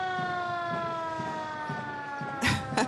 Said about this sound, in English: another fire engine coming our way